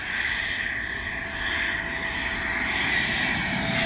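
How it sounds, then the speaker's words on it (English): A Eurofighter jet flies just overhead, a steady loud roar of jet engine noise filling the whole stretch with no talk. "Got a blinking Eurofighter flying just over the top of us as well."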